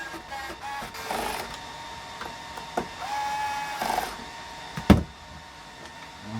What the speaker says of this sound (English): The cool thing about this screwdriver is basically all you need to do is press it down and it will start screwing in.